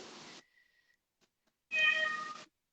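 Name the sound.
cat meowing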